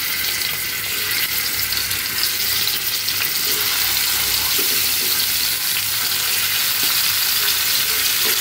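Chicken pieces fry with turmeric, chili and salt in hot oil, giving a loud, steady, unbroken sizzle that holds at the same level the whole way through.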